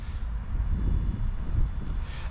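An Esky 150EC mini RC sports helicopter flies outdoors in wind at high rates, giving a steady buzzing rotor drone with a thin high motor whine over rough wind rumble, at moderate distance.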